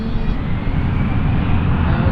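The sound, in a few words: Boeing 777 aircraft in KLM SkyTeam livery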